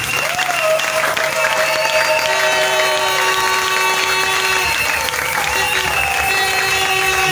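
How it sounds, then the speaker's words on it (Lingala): A church congregation applauds steadily for several seconds, a dense, loud, continuous clapping that fills the room with no break. "Est-ce que maintenant quelqu'un peut acclamer pour la parole de Dieu?"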